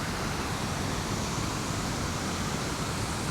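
Close, loud and unvarying, the torrential-rain-swollen waterfall at Indian Leap in Norwich pours out a thick wash of roaring water noise that never lets up.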